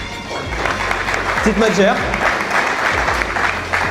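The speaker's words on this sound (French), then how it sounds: "Baptiste, tu peux l'applaudir hein." Audience at a National 3 football awards ceremony applauding a player, a steady wash of clapping from a crowd nearby while a presenter talks over it.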